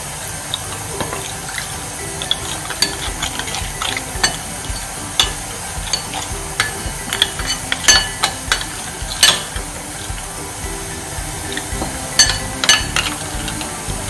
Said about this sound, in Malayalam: ഇനി ഇത് കുറച്ച് വെള്ളം ചേർത്തിട്ടൊന്ന് നല്ല മിക്സ്ചർ ആക്കി എടുക്കണം